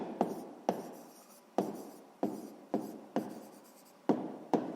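Pen strokes on notebook paper while solving a sixth-grade maths exercise, a series of about eight crisp, evenly spaced scratches and taps, close and fairly quiet, with no voice over them.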